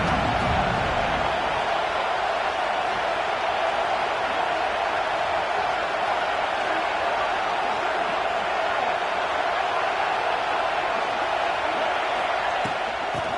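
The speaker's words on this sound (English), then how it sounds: "This crowd ready to make its presence known." A college football video game stadium crowd gives a dense, steady roar throughout, loud and unbroken, with no distinct voices standing out.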